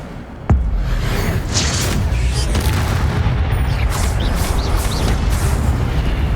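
An Incendio fire spell cast in the video game Hogwarts Legacy lands as one sudden loud boom, followed by a sustained roaring, crackling rush of flame and whooshing effects.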